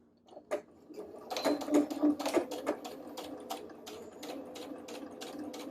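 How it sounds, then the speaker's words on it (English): A sewing machine stitches a V-neck seam in short bursts of rapid mechanical clatter, fairly close and quiet, pausing and restarting toward a pivot point, with no talking. "So I'm gonna keep on sewing until I get to my pivot point."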